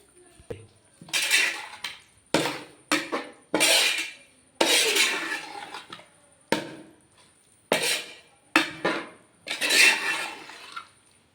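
Lemon pickle with added vinegar is stirred in a pot, a series of scraping, clinking strokes of a spoon against the metal, close and fairly loud, arriving in irregular bursts with brief pauses between.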